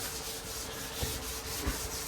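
Continuous abrasive sanding of a 1932 coupe car body, loud and close, a steady rasping rub with slight rhythmic surges as the sander strokes across the surface.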